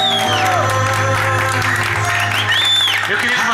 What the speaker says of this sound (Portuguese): Uma salva de palmas para o nosso homenageado